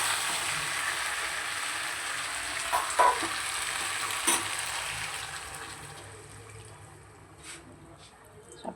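Hot water is poured into a frying small-fish curry masala with green tomato and potatoes, giving a sizzling, bubbling rush with a few sharp splashes and clatters, settling to a softer simmer, close and moderate with no talk.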